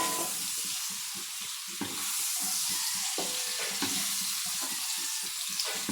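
Taro leaves sautéing in a pan give a steady, close sizzle and crackle with soft stirring and scraping throughout, and no voices.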